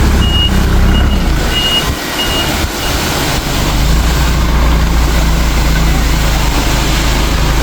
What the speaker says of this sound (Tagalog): Ang ganda ng truck na puti na yan.